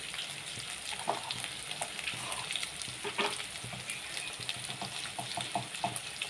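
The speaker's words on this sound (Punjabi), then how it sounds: "ਹੁਣ ਆਪਾਂ ਇਹਨੂੰ ਭੁੰਨ ਲਾਂਗੇ ਚੰਗੀ ਤਰ੍ਹਾਂ" Potato and pea curry with turmeric, homemade masala and green chilies being roasted in a pan gives a continuous close sizzle, broken by irregular scraping and clattering as it is stirred.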